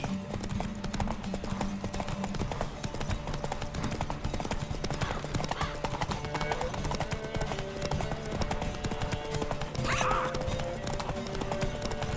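Roach the horse gallops in The Witcher 3 Wild Hunt, a steady, rapid clip-clop of hooves running continuously, with a brief whinny near the end.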